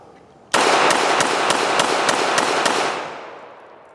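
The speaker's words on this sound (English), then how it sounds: "But just a smooth shooting 1911." Shots from a 1911 pistol ring out as a sharp burst of about eight rapid, evenly spaced cracks over a loud wash of echo, which fades as the firing stops.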